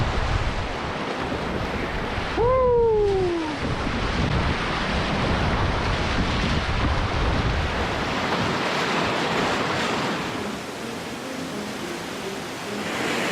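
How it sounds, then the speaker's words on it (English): A class 3 whitewater river rapid roars as a steady, loud, broad rush of churning water, heard up close with wind buffeting the microphone and a brief whistle-like tone near the start. "now we're getting into some whitewater"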